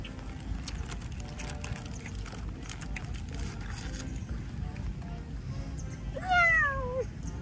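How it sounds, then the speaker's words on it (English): A cat gives a short, clear meow near the end, standing out over steady outdoor background noise at a casual picnic. "The cat is cute."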